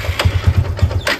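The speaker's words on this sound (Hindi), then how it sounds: "स्टार्टिंग दिखा देते हैं कि इंजन स्टार्ट कैसे है," A ten-year-old TVS Apache motorcycle engine cranks and catches, giving a rapid, uneven chugging pulse that settles into a close, loud idle with no voices over it.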